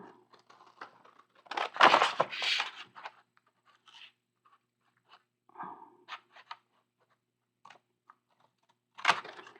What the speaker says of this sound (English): I really need to get some other scissors. These are just so difficult.